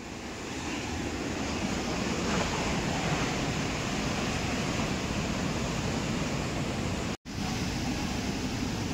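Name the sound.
big sea waves at high tide, South Goa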